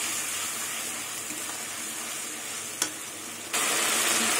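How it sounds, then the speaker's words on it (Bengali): Spice paste sizzles and fries steadily in hot oil in a pan while being stirred, a continuous close hiss with a brief clack near the end before the sizzle grows louder. "মশলা কষাতে কষাতে তেল ছেড়ে দিয়েছে"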